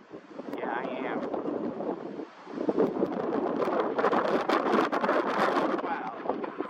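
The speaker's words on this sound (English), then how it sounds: "Man, this wind is intense." Strong wind buffets the microphone outdoors at a skatepark near an osprey nest, a loud, rumbling roar that surges and briefly drops before returning, with a voice faintly present.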